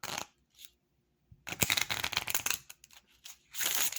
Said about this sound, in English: The riffle shuffle and the bridge.